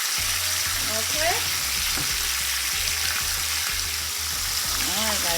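Instant grits made with water fry in a pan with a steady, loud, bright sizzle throughout, with a few soft clinks and bubbling pops close by and faint voice-like sounds in the background.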